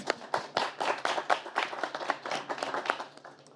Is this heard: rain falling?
no